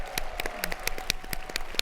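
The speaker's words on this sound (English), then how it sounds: "let's give a round of applause for the people watching from home" An audience gives a round of applause at a large closing session, with dense, steady clapping from many hands filling the room.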